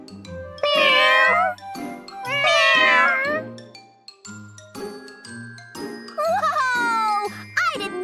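Several cats meowing in turn, long drawn-out wavering calls close by, interspersed with light jingling and chiming tones, with some speech-like sounds between the meows.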